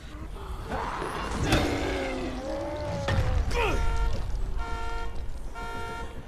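In the video game Dying Light, a car horn sounds several times amid engine and mechanical noise, ending in a long, steady tonal honk; moderately loud, with some vocal sounds mixed in.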